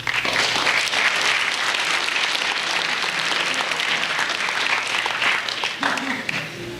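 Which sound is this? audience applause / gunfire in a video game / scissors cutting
audience applause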